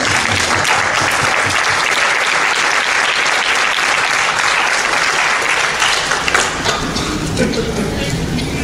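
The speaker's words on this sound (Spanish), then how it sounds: "Que le doy un aplauso a Jesús." A church congregation at a Spanish-language Christian service breaks into loud, dense applause that fills the room continuously, tapering slightly near the end as voices start to emerge.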